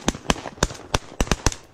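Shotgun shots fired during a goose hunt on a river, seven sharp, loud blasts in quick irregular succession, each a broadband crack with a short decay.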